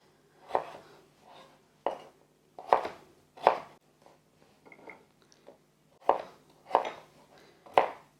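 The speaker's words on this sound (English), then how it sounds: "We're going to cut this sweet potato." A knife chops through sweet potato in sharp, separate strokes against a cutting board, several hits in uneven groups with short pauses between them. A low steady hum sits underneath, and there is no talking.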